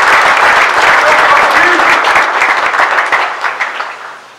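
Audience applause welcomes the family of a new UNM football coach, a dense, loud burst of clapping that gradually thins and fades toward the end.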